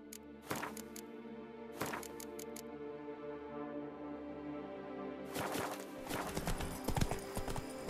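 Horse hooves clip-clop on the ground in The Witcher 3 video game, a rhythmic sequence of sharp knocks over a steady droning musical bed, growing busier and louder toward the end.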